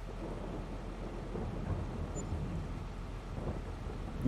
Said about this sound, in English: A fair bit of rain.